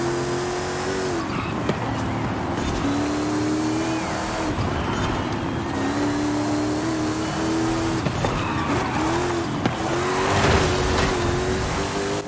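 A Hot Wheels car in Forza Horizon 5, tuned for drag launches, roars loud and continuous, its engine pitch rising and falling through repeated accelerations and gear changes, with tire squeal as it struggles through corners.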